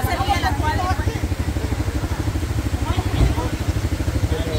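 A motorcycle engine idles with a steady low throbbing rhythm while people talk over it nearby.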